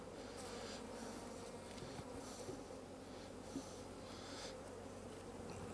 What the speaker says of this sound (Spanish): Toda la abeja cubriendo el cuadro.